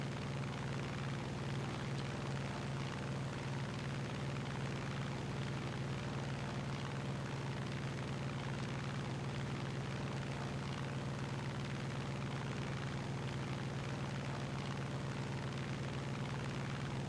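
Steady, continuous drone of a Hellcat's propeller engine in War Thunder, a constant low hum with a whining tone that holds level throughout, loud and alone with no talk over it.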